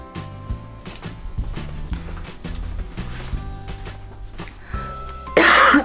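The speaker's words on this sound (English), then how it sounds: "I still have a cough" A sharp burst of coughing near the end, loud and close, after several seconds of quieter background sounds and faint music.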